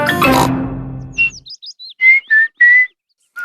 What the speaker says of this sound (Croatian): Zviždanje.